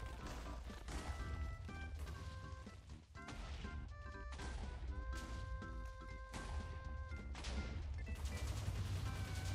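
Mai's pistol fired repeatedly in a Minecraft Jujutsu mod, giving a series of sharp cracking shots and impacts over game music with a steady tonal backdrop.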